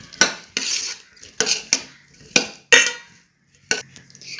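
A spoon stirs Kashmiri chilli masala in a pan, making a series of sharp metallic scrapes and clinks in uneven bursts, close up with short quiet gaps between strokes and no talk.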